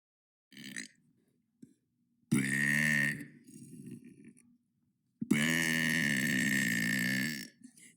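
A person burps alone: a short small belch, then two long, loud, drawn-out burps separated by a quiet gap.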